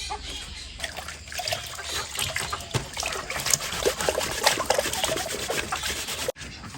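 Water trickles and splashes continuously, poured out close by at a duck farm, with some rubbing and handling noises mixed in.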